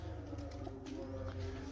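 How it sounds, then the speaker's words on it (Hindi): Low, soft cooing of pigeons over a steady hum of background noise, continuous and fairly quiet throughout. "ये कबूतर अपने घूम रहे हैं"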